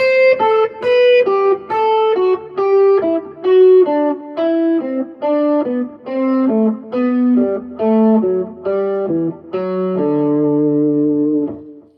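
A distorted electric guitar plays a scale in thirds, paired notes climbing step by step, each pair evenly spaced, ending on a sustained held note.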